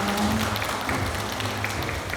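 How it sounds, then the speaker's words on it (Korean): Steady applause from an audience at a press conference for a cultural heritage visit campaign, continuous clapping throughout with no speech. "역시 박수가 좀 커지네요"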